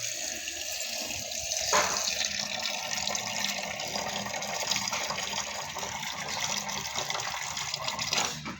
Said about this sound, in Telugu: ఈ విధంగా స్టోన్స్ని మగ్గులో వేసుకొని వాటర్ అయితే ఫిల్ చేసుకోవాలి.